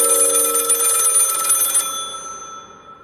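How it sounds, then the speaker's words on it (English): A telephone bell rings loudly at night in a quiet room, one sustained ring that cuts off and fades away, with no voices. "about 3 a.m, the phone rang."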